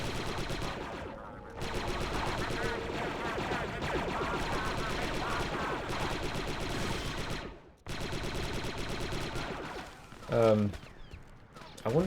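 Rapid laser blaster fire in Star Wars: Republic Commando, dense bursts running continuously with short breaks, loud and close, with game effects layered in.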